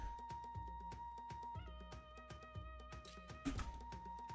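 A cat meowing repeatedly in the Bubble Tea video game, a series of short, clear meows over a steady musical backdrop with a few soft clicks, no talking.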